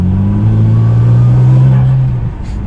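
A Toyota A90 Supra engine hums steadily with a whining turbo tone under it, loud and close, fading slightly near the end.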